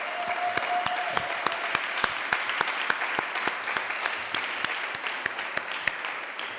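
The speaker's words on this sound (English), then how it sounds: "So would you please join me in a round of applause for Mark and all that he's done." An audience at a school of public health alumni awards ceremony claps steadily, a room-filling applause with a few sharp, close hand claps standing out over the crowd.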